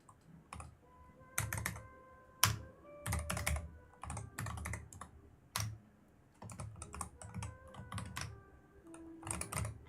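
Steady typing on a computer keyboard, close and crisp, with clusters of rapid key clicks and short gaps over about ten seconds, no voices.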